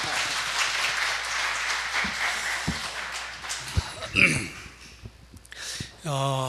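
A church congregation applauds during a Sunday worship service, a dense, steady wash of clapping that fades into scattered claps and shuffling, with a voice speaking near the end.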